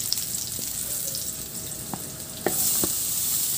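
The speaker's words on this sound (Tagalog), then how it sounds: "Igisa ko na rin yung luya." Ginger sautés in a little oil in a pan, a constant close sizzle broken by a few sharp crackles and a brief stir near the end, where the frying grows slightly louder.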